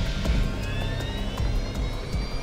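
An airplane's engines roar steadily during the takeoff roll, a loud continuous drone with rising whine tones and periodic thumps from the runway, heard alone without talk.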